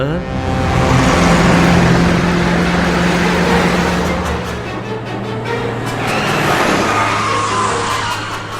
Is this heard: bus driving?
yes